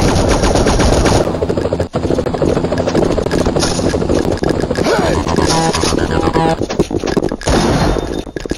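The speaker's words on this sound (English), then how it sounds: "Enough with the shooting already." Machine gun fire rattles in a loud, continuous burst lasting several seconds, with a helicopter-like engine drone and a few sharp impacts in the mix.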